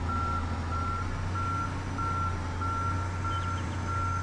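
Steady, evenly spaced reversing beeps from a truck in the Farming Simulator 22 video game, repeating in a regular rhythm over a constant low engine drone, with no talking.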